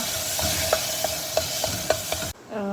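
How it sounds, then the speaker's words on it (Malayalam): Chopped tomatoes sauté in a pan under a steady sizzle, with a spoon knocking against the pan in about seven regular scraping strokes before the sound cuts away. "നന്നായി വഴറ്റി കൊടുക്കുക"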